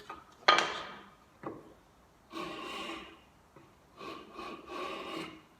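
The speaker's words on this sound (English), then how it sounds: "That's me just filing it to get it right." Hand file rasping wood to fit a rebate on a sliding lid box, several short scraping strokes in bursts with pauses between, close and fairly quiet.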